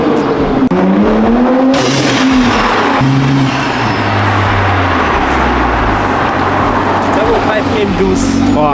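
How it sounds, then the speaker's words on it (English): A Nissan GT-R engine pulls hard under load while a loose turbo boost pressure pipe blows off with a loud swooshing rush over the steady engine drone. "that swooshing sound you just heard was definitely the turbo boost pressure pipe coming"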